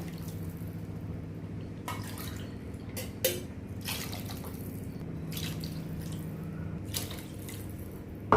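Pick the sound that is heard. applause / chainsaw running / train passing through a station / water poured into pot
water poured into pot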